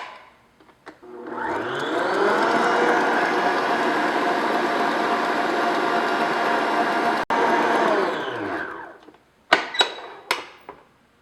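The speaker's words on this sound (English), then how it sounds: "that means we need to beat the meringue a little more" An electric mixer beats meringue of egg whites and sugar for a classic pavlova, a steady loud whirring drone for about seven seconds with a brief dip, then stopping, followed by a few clinks.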